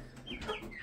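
A Wyandotte chicken gives a short, close cluck, a quick burst of soft clucking notes.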